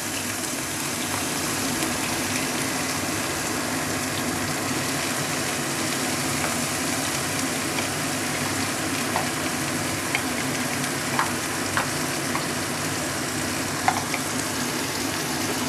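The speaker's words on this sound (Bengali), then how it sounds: "সেটা তেলের মধ্যে ছেড়ে দিলাম" Onion, ginger, garlic and chili sizzle steadily in hot oil for a Bengali prawn dish with shola kochu, a continuous dense frying hiss with occasional small pops and crackles, close and without talk.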